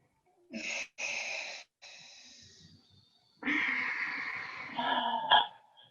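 Deep breaths in and out during a Pilates exercise, a series of audible airy inhales and exhales with short pauses between, close and fairly quiet, with no talking.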